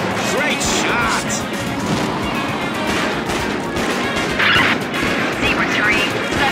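Repeated gunshots ring out in a Starsky & Hutch driving shooter game, sharp cracks scattered over several seconds amid continuous engine and game noise, with a voice chiming in between.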